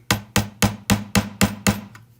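Tiny nails held with tweezers are hammered into a wooden board just under half an inch thick: seven sharp, close taps in a steady, even rhythm, with no talking.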